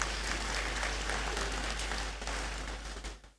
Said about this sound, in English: Another round of applause for them, please.